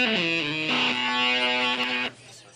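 Electric guitar played through an effects unit cranked fully to its most splattering, distorted setting, a few sustained harmonically dense notes ringing loud and alone for about two seconds before cutting off abruptly.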